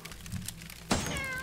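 Cats meow in the video game Wildcat Warfare. One short, bright, clear meow rises suddenly out of soft background game noise, with no talk.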